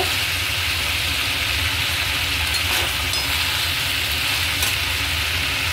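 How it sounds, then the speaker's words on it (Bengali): Bengali-style pumpkin curry sizzles steadily in a pan while it is stirred, a constant dense frying hiss with faint scraping close up. "আরও খানিকক্ষণ ভালো করে নেড়ে নেব।"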